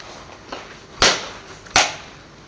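A small, dry coconut struck open by hand, giving two sharp, loud cracks about a second apart after a fainter tap, with no voices over them.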